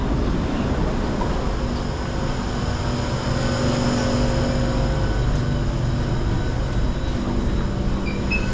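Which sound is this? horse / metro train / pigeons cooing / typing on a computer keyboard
metro train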